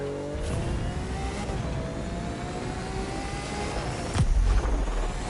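A Lamborghini Aventador LP700-4 in the racing game The Crew 2 gives a continuous, steady engine drone with wind rush, briefly swelling louder toward the end, with no voices.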